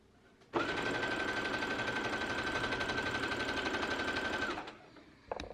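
A sewing machine stitches a ruffle onto a garment, starting abruptly and running at a steady rapid whir with a fine mechanical rattle for about four seconds before slowing to a stop; a faint clack follows.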